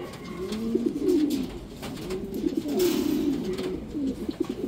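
A racing pigeon coos in a steady series of low, throaty calls, close by, with no other voices.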